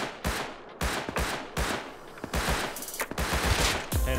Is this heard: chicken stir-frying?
no